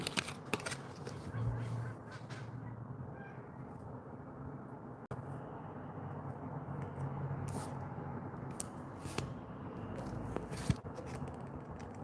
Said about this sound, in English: I swear I heard seagulls.